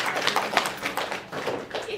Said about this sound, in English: I'd like to just give a round of applause for Amina.